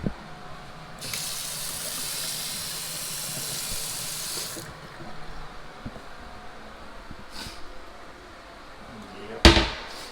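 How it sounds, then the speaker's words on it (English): Water runs from a tap in a garage being converted into a studio, a steady close gush lasting a few seconds, then a quick second spurt and a sharp click near the end. "we got running water."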